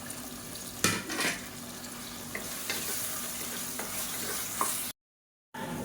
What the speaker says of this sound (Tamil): மீடியம் சைஸாக ஒரு தக்காளி பொடியாக கட் பண்ணதை சேர்த்துக்கலாம்